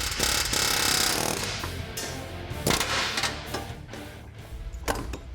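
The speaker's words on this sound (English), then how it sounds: "use a hammer and punch to knock the rivet out, or a different bit on the air hammer" A loud, harsh pneumatic air hammer knocks out rivets on a pickup truck, clattering nearby with bursts of rapid banging and sharp metallic impacts scattered throughout.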